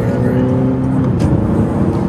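Tuned 2021 Honda Accord 2.0T engine pulling hard under acceleration, a steady loud drone heard from inside the car, with people talking over it.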